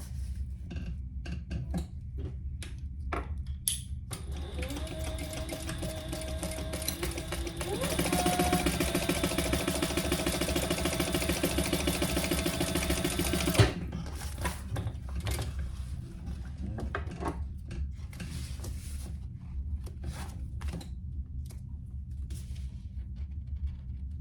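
A sewing machine stitches a bag lining seam in a short, steady run of whirring mechanical hum near the middle, with a voice talking before and after it.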